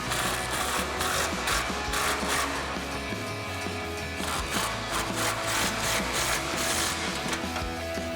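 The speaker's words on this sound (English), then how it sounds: "we're gonna grab our impact, a short extension, a swivel, and our deep 16mm socket and tighten them down" An impact wrench with a short extension, swivel and deep 16mm socket tightens nuts while a front bumper is installed on a 2019-2024 RAM 1500 pickup, making continuous, loud, close rattling hammering throughout.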